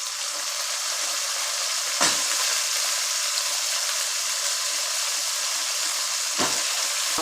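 Eggplant frying with onions in a pan for vendhayam kathirikai puli kulambu, a continuous close hiss of hot oil with two sharp scrapes or knocks partway through, no talking.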